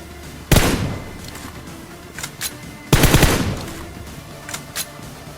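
Gunfire in the battle-royale game PUBG: two loud bursts of rapid shots about two seconds apart, each decaying into echo, with fainter distant shots in between and afterwards.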